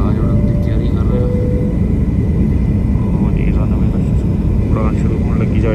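Passenger jet airplane preparing for takeoff on a domestic Canadian flight, heard from inside the cabin as a steady, loud engine roar and rumble filling the whole clip, with people talking over it.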